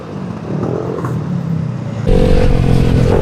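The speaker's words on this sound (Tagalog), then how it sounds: "Napaka-traffic talaga" Heavy road traffic heard from a Yamaha Aerox V3 scooter on the road to Teresa, a close engine drone with passing vehicles that suddenly grows louder and rougher partway through.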